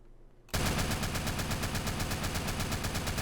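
A Tech 9 fires a long, rapid automatic burst in the game SAMP, loud and relentless, coming in abruptly after a quiet moment and carrying on to the end without a break.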